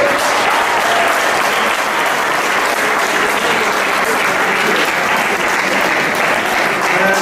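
Audience at a gathering on peaceful Christian–Muslim coexistence breaks into loud, sustained applause, dense steady clapping filling the room for several seconds with no break.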